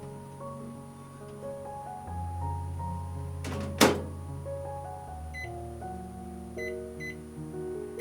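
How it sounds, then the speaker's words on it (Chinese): A microwave oven heats stearic acid for transparent soap making. Its steady low hum runs throughout, broken by a sharp thunk midway and a few short electronic beeps near the end. "然后放进微波炉加热2到4分钟，直到硬脂酸完全融化。"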